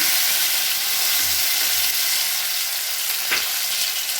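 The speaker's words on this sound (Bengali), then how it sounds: "টমেটো আদাগুলো একটুখানি ভেজে নিলাম" Chopped ginger and tomato frying in hot oil with spices for palak paneer, a dense, steady hiss of sizzling oil close by with one short scrape of stirring near the end.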